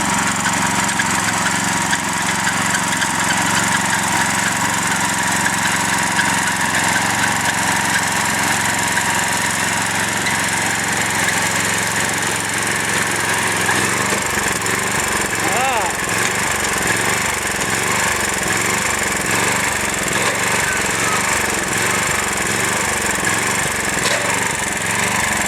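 A garden tiller churns dry, hard garden soil beside tomato plants, its engine running loud and steady throughout, with a chopping, pulsing rhythm of the tines biting into the dirt growing stronger in the second half.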